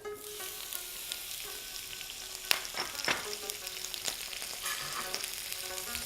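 Prawns fry in garlic in a pan, giving a close, continuous crackling sizzle with scattered sharper pops and stirring clicks, and no one speaks.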